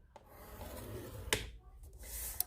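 A scoring tool drawn across a sheet of cardstock for a slider box, a few quiet, close rubbing scrapes with a couple of sharp little ticks in a hushed room.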